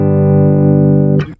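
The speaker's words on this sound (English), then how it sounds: "Now that is the sound of a DI guitar." A 1997 Mexican-made Fender Stratocaster electric guitar, recorded direct with no effects, rings out one sustained, loud chord that holds steadily for over a second before being cut off with a brief scrape, alone with no talking.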